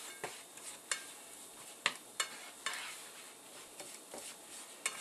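Flour being mixed into a pan for smoked mac and cheese: faint, repeated scraping and stirring strokes at an irregular rhythm, close but soft, with a light sizzle underneath and no talking.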